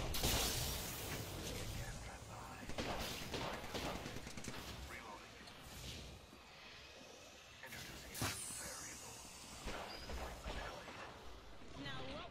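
Gunfire in a shooter video game crackles in fast bursts and sharp shots close by, mixed with impact crashes, while a player talks over the action.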